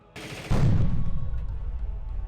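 Gunfire from combat units in the war strategy game People's General: a sharp burst of rapid shots that ends in a heavy booming rumble and decays slowly, loud and close with no talk over it.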